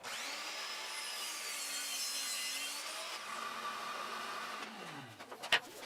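A saw cuts strips of 3/4-inch plywood down to length, a steady close rasping whine that holds for several seconds, then fades and gives way to a couple of sharp knocks at the end.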